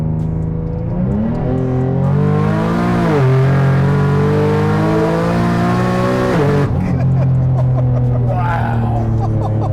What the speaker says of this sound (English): There's something about a fast turbo auto car